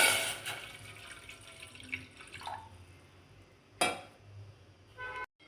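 Water runs and splashes into a metal pot, with scattered drips and clinks and a sharper splash near the end before it stops.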